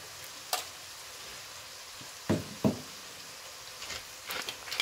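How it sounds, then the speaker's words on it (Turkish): Onions frying in a pan for a spinach and pasta dish, with a steady faint sizzle broken by a few brief stirring scrapes and clatters, close by and with no talk. "Soğanlarla kavuruyoruz."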